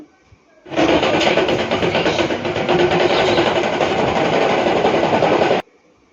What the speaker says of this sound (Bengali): আর দেখো ট্রেন কিন্তু হুগলি থেকে ছেড়ে দিচ্ছে।